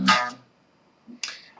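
The A section of a song is played on guitar as two sharp, bright, clean-toned plucked hits about a second apart, each decaying quickly, with near silence between them.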